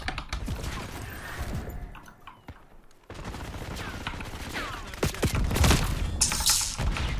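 Enemy marksman gunfire in Call of Duty: Black Ops 6: sharp, loud cracks and bursts of shots come in quick clusters, with a short lull partway through, over busy in-game clatter.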